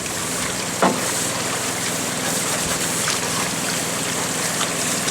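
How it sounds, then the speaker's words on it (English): Water splashes and streams over a gold-panning beach box in Nome, a steady rushing wash with one sharper splash near the start, loud and close throughout. "So we'll splash water up there."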